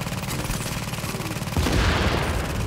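Gunfire in the video game The Division, a steady run of rapid shots that swells louder and denser about halfway through, like a heavier burst or turret joining in.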